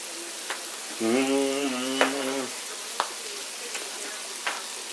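Brussels sprouts sizzle softly in bacon fat with a steady low hiss and a few faint pops, and a brief voice cuts in near the start.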